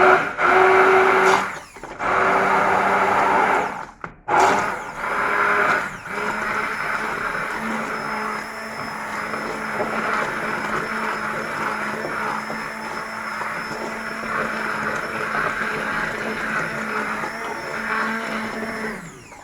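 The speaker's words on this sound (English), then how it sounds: "I need a longer cable on my blender." A kitchen blender whirs loudly while blending a sauce for poached chicken with preserved lemon and chickpeas, starting in short pulses then running as a steady close motor drone.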